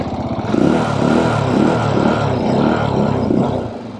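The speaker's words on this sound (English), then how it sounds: "440 some cc single cylinder engine." A Janus Halcyon 450 single-cylinder motorcycle engine, about 440 cc, idles and revs up close, a loud, thumping, throbbing drone that rises and holds for a few seconds.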